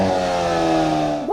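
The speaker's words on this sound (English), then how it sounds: "Here is the quietest exhaust level." A 2022 Hyundai Kona N engine idles and hums steadily on its quietest exhaust setting, a low, smooth exhaust drone, fairly loud and close, ending with a slight rise in pitch.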